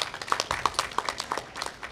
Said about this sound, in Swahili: Hongera sana, tumpigie makofi mengi.